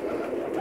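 Teddy pigeons coo in a soft, low, continuous murmur close by, heard alone without talk.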